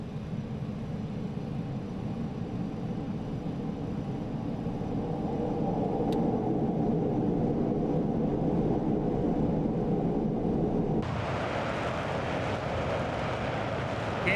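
Concorde jet engines spooling up to full throttle in the MSFS 2020 flight simulator, a loud, steady low roar that thickens and brightens sharply near the end as thrust builds, with no talk over it.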